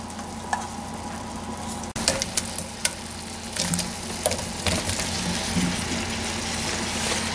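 Onions and mushrooms sizzle steadily in a cast iron skillet, a constant close frying hiss with soft pops and crackles and a few stirring clicks, no talking.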